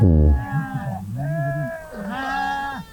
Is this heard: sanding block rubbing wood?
no